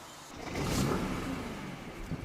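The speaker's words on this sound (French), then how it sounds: "Je la démarre." A Volkswagen TDI diesel car engine cranks and catches, rising into a steady rumbling run that swells and then settles, heard nearby with no talking.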